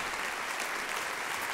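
Concert audience at a jazz award prize-winners' concert applauds with a thick, even wash of clapping filling the hall without pause.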